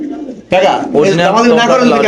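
Pigeons cooing at a pigeon farm, a loud close burst of bird calls starting abruptly and continuing with overlapping rolling coos, mixed with voices talking nearby.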